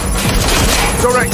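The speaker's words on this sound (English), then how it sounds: "Suspect has opened fire!" A loud, close burst of gunfire in Watch Dogs Legion, layered with a booming rumble and game noise throughout.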